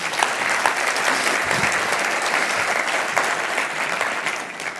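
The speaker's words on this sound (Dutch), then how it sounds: "Kom, we geven ze vast een applaus." A large audience at the opening session of a Dutch conference on flood-defence maintenance applauds, a dense continuous wash of clapping that stays even and fills the room throughout.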